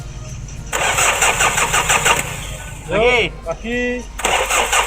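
A Mitsubishi 4D56 diesel engine in an L300 van is cranked by its starter while air is bled from the fuel system after injector work. Two loud close bursts of rapid cranking are separated by a short spoken word.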